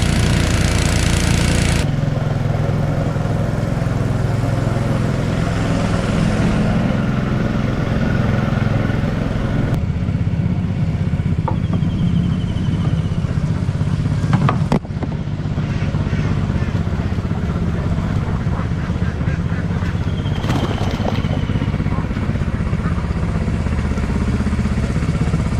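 A fishing boat's engine drones steadily while the boat travels out to the fishing grounds, loud and close with a constant chugging rumble and occasional clatter, no break throughout.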